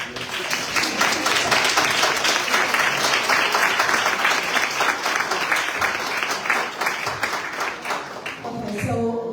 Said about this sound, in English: please stand and give them a round of applause again